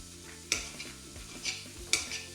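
Strips of ginger sizzle in a pan with onion, giving a steady frying hiss. A utensil stirs the pan several times, each stroke making a sharp scrape or clink, close by and with no talk.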